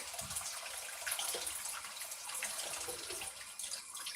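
Steady rush of tap water running into a sink while blueberries are rinsed, a continuous close hiss with faint splashing and no talking.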